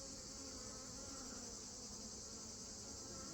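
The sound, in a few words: honeybee swarm buzzing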